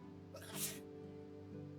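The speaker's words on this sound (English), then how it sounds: "did someone just sneeze?" A villager sneezes once in the medieval life-sim game Medieval Dynasty, a short, sharp burst over a steady hum of game ambience and music.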